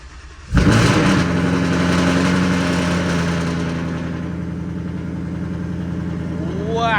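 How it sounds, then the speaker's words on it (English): A Ford Mustang with a Vortech supercharger, running on E85, cold starts after sitting: a sharp cranking catch, then a loud rough idle rumbling close by that settles slightly and rises again near the end. "Cold start. I wonder if the Mustang will even start up."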